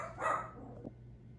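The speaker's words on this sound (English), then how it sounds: "My dog gonna start barking?" A dog gives a single faint, distant bark from another room during the neighborhood dog-walking hour, over quiet background hum, with no talking.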